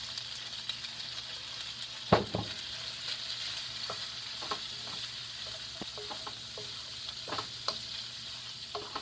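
Broccoli and shrimp stir-frying in a pan give a steady sizzle, with scattered clatters and scrapes from stirring, one louder knock near the start, and no talking.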